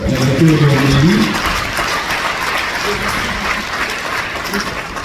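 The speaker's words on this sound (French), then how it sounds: "Je pense que vous pouvez les applaudir avec Victor." A crowd at the closing of the Popenguine pilgrimage applauds in a dense, steady patter that runs to the end, while a voice briefly sounds over the opening second.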